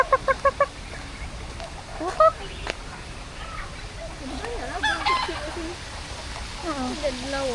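Chickens and other fowl at KL Bird Park cluck and call in short bursts, with a quick run of clucks near the start and scattered calls later, mixed with a lively crowd of people talking close by.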